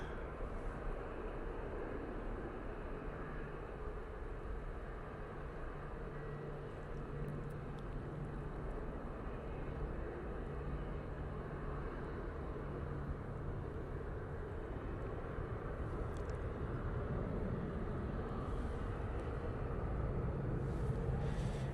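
An EasyJet airliner on its takeoff roll gives off a steady, broad jet roar and low rumble from a distance, sustained and even throughout, growing slightly toward the end.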